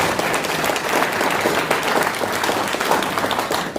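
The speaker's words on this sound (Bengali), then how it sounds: "মিস্টার অলোক প্রকাইতের জন্য একবার জোরদার হাততালি চেয়েছেন।" An audience at a basic training workshop applauds loudly and steadily, a dense wash of many hands clapping together without a break.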